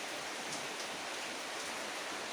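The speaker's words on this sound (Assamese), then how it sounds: "পুৰা বৰষুণ দি আছে।" Heavy rain falls outside as a steady, dense hiss of even noise throughout, with no distinct drops or talk.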